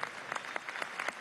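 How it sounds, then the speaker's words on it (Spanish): An audience at a political congress in Venezuela claps in a sustained ovation, a moderately quiet, even patter of many hands with rhythmic peaks and no voices on top. "le damos una ovación a Martín Pacheco"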